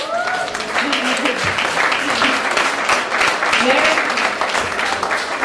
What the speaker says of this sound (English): Applause for the workshop.